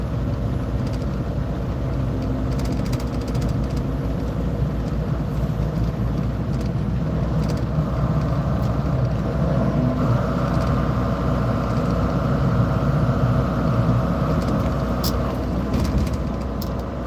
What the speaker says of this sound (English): Look, it's a wannabe sports car.